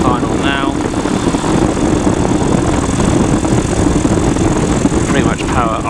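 Flexwing PeaBee microlight engine at idle power, a loud steady drone with propeller buzz, heard close under intermittent voices.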